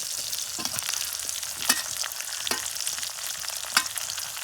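Onions and green chillies frying for chicken biryani, a steady close sizzle with a few sharp stirring clatters and scrapes in the pan, no voices.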